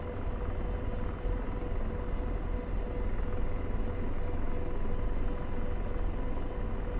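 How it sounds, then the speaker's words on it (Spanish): AH-64 Apache attack helicopter in the DCS flight simulator, yawing left on pedal input; a steady, loud broadband rotor and turbine rumble runs unbroken throughout, with no talk. "voy a pisar el pedal izquierdo hasta que el helicóptero esté orientado hacia el sur"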